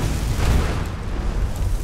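A deep, rumbling video game explosion from Skyrim fills the clip, its low boom swelling and lingering with crackling debris, loud and close, with no voices.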